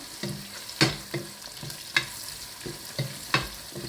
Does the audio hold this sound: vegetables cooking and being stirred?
yes